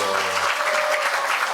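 Applause fills the hall at a church Easter recitation contest for the Westminster Confession of Faith, a dense, steady burst of many hands clapping that is close and loud, with a held tone fading out at the start.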